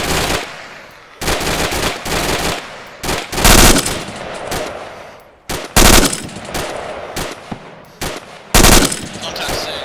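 Machine gun fire comes in several loud bursts of rapid shots with pauses between them, close by and dominant over faint talk.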